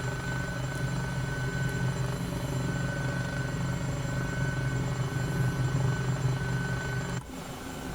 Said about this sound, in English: So there's takeoff in the old Eurocopter, pretty straightforward process